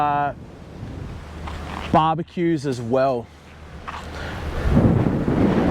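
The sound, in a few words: wind blowing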